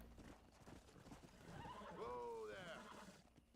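A horse in Red Dead Redemption gives a sharp, rising whinny over muffled hoofbeats and stamping, faint and close, with a voice murmuring in the background.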